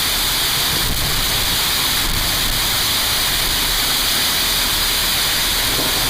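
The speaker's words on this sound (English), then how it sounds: "We got a hailstorm and a rainstorm going on." Heavy rain pours down hard in a dense, unbroken roar during a hailstorm and rainstorm, loud and close, with a faint thump or two and no talking.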